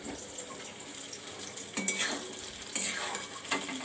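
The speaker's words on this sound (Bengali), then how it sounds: "ভালো করে মাংসটাকে কষিয়ে নিয়ে এরপর দিয়ে দিলাম এই ক্যাপসিকাম কুচি।" Meat already browned in a pan, now with chopped capsicum added, being stirred and fried in a home kitchen: a steady low sizzle with a few louder scraping stirs, close and alone.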